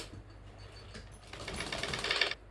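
A sewing machine stitches a chikankari kurti seam, a quiet steady mechanical whir that swells over the final second before stopping abruptly.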